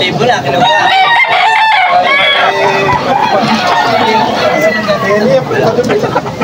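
A young six-month-old stag rooster crows repeatedly at a bustling Sunday livestock market in Malolos, Bulacan, the calls loud and close among clucking fowl, under steady crowd chatter and people talking throughout.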